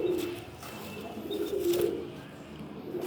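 A male red Shirazi pigeon coos in soft, rolling low calls, two or three throaty phrases close by against a quiet background.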